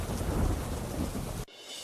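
Heavy monsoon rain in Gujarat roars with deep thunder rumbling through it, a loud dense downpour that cuts off abruptly after about a second and a half.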